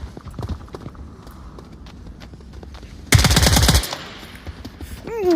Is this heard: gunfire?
yes